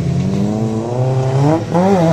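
A race car at a Ringwood Raceway wrecked-car race roars close and loud, its engine note climbing as it accelerates, dipping briefly, then rising again.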